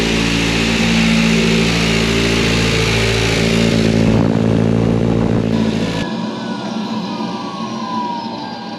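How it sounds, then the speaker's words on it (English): Motorcycle engine fitted with a new turbo idles loudly and steadily close by, with a rattly top end from a worn cam chain tensioner. The sound drops abruptly to a softer level partway through. No one speaks. "It sounds louder than it is. It also almost certainly needs a cam chain tensioner, because it's rattly at the top end a little bit."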